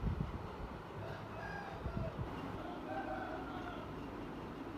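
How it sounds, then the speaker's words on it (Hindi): Roosters crow faintly in the distance over a low, noisy background rumble, with a few clucks mixed in, in a village. "इधर भी रखे हुए हैं मुर्गे"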